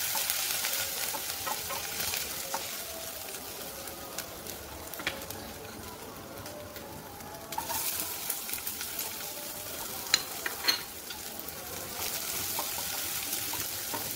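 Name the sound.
chopped onion and ginger frying in oil in a pan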